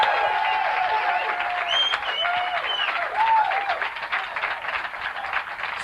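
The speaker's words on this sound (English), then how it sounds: "Let's have a nice round of applause" A comedy-club crowd in Sacramento gives dense, sustained applause for headliner Will Durst at a 1987 TV pilot taping, with a few whistles cutting through the steady roar.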